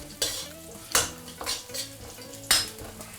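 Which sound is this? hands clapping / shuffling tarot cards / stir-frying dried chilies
stir-frying dried chilies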